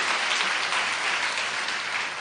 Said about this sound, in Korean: 자, 우리 두 분께 박수 한번 할렐루야.